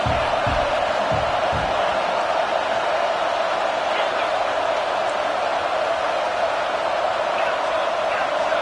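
A dense roar of a large stadium crowd cheering in an American football video game on PS5, a constant wash of noise with a few low thuds at the start.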